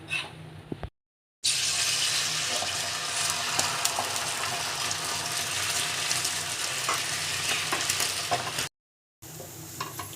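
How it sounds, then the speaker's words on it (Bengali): Egg chicken rolls fry in a pan with a steady, close sizzle that runs almost unbroken and drops out briefly near the start and end. "এবং বাকিগুলোও ভেজে নিই এরমভাবে"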